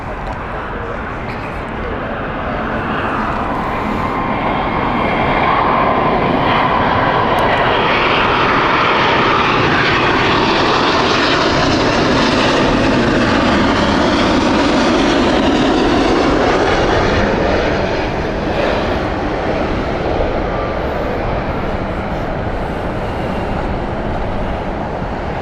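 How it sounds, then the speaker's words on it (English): American Airlines Boeing 777-200 on the Miami flight at Heathrow Airport, its engines building into a loud, close jet roar with a sweeping whine that peaks midway and then slowly fades as it passes. "Here is American Airlines with their 777-200 here."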